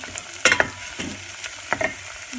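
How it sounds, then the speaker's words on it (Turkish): Onions sautéing in a pan for a tomato-paste pilaf sizzle softly beneath several sharp metallic scrapes and clinks of a utensil stirring against the pan, close and without speech. "Böyle burada soğanımı kavuruyorum."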